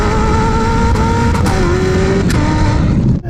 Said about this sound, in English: It's like a gun going off when you change gears.